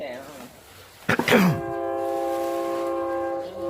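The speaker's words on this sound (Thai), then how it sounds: "โอ้รถไฟมาพอดีเลย" A train passes, sounding a long, steady horn that holds on after a burst of louder noise, with a voice heard faintly beforehand.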